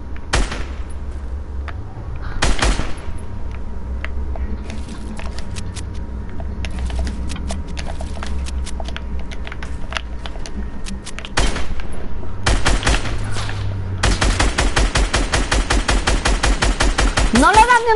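Rapid video game gunfire, with long bursts of automatic shots and single cracks spread throughout, growing into a dense fast volley toward the end, with no talking over it.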